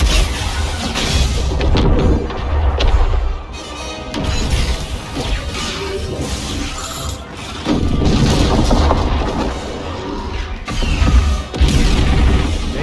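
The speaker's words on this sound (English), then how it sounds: "They don't notice a big explosion happening." Large explosions aboard a ship in the video game Star Wars Battlefront 2, loud booming crashes and rumbling blasts repeating in heavy bursts over the whole stretch, with mechanical clatter and no speech.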